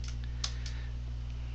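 A handful of light clicks from typing on a computer keyboard, sparse and faint over a steady low electrical hum.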